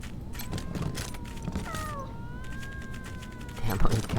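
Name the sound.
cats meowing in the video game Wasteland 3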